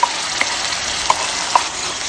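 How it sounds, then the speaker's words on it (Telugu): Onions and green chilli paste fry in hot oil, giving a loud steady sizzle with a few soft stirring scrapes and no voices. "పచ్చిమిర్చి పేస్ట్ కూడా ఒక్క నిమిషం అట్లా ఫ్రై చేసుకుందాము"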